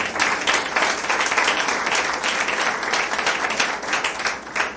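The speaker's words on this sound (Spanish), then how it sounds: "de un aplauso al Señor Jesús" Church congregation clapping for Jesus during a sermon, a steady dense wash of applause filling the room for the full stretch without a break.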